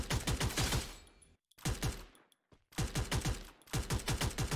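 Rapid automatic gunfire in the shooter game Free Fire, sustained bursts of close, loud shots broken by short silent gaps, with no voices over them.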